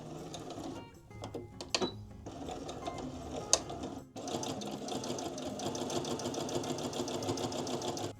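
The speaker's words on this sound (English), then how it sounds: "From here I'm just going to sew around all 4 edges" A sewing machine stitches around fabric edges over cord, its rapid mechanical whir running in close bursts with brief stops and a louder unbroken run in the second half.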